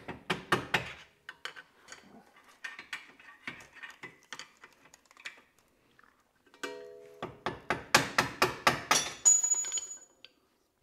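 Sharp metallic taps from a hammer or mallet striking a flathead driver on a Toyota GR86 coilover assembly arrive in quick bursts of several hits, separated by short pauses, close and crisp in a quiet garage.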